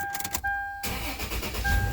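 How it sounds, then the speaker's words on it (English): A Toyota 4Runner engine starts after an oil change: a short quiet lull, then a sudden burst as the motor catches and settles into a steady, loud idle. "let's see if the car starts"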